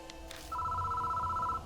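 A telephone in the horror game Death Mark rings once, a steady warbling electronic trill of about a second following a couple of short soft clicks, heard over low background hum.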